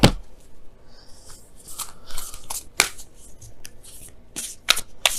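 Oracle cards are shuffled and pulled for a tarot reading, giving close, crisp riffles and flicks of card stock in uneven bursts with sharp slaps between them.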